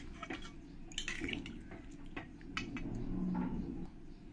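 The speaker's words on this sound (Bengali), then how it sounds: "আমি যে ছোলাটা সেদ্ধ করেছি সেই জলটাই আমি এর মধ্যে দিয়ে দেবো।" Water from boiled chickpeas poured into a pot of cooked kabuli chickpea curry, making soft splashing and dripping sounds with faint clinks of cookware, fairly quiet and close.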